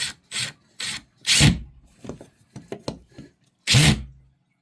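Several short, scraping bursts of a screw driving into a wooden wall stud, separated by quiet gaps and softer rubbing sounds, close by.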